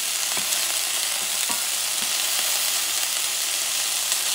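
Green beans and peas sauté in a hot pan with a loud, steady close sizzle and occasional stirring taps, no talking.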